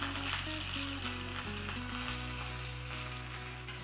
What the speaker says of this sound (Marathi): फोडणी आहे त्यातल्या कढणामध्ये घालूया.